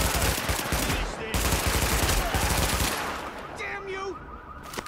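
Sustained rapid gunfire from The Division, dense automatic bursts for several seconds that thin out toward the end, with voices talking over the shooting.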